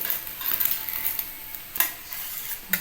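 Gentle sizzling of curry leaves in hot oil, with a few light taps and scrapes of a utensil against the pan, fairly quiet and without speech.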